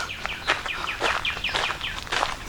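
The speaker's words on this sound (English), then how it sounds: "There's birds." Several birds feeding on black cherries at Prime Hook National Wildlife Refuge in Delaware, giving rapid overlapping chirps and short tweets at moderate distance over light outdoor background noise.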